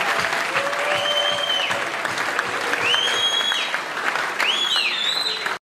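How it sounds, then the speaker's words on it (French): Sustained applause from a large crowd at a political party congress, dense and steady, with a few voices rising over the clapping throughout. "Tout le monde applaudissement."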